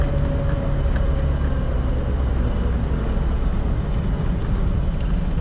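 A 50th anniversary Land Rover Defender 90 with a V8 and automatic gearbox being driven, its engine and road noise a steady, loud, even drone with no talk.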